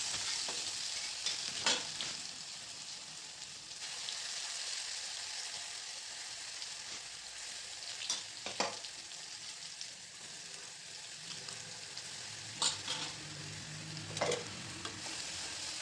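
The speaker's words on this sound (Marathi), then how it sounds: "वाटण छान परतून घेऊ तेल सुटेपर्यंत मसाला शिजवायचा आहे" Ground spice paste with cumin and mustard seeds sautéing in hot oil for a cabbage bhaji gives a steady close sizzle. Intermittent louder stirring scrapes punctuate it, with no voices.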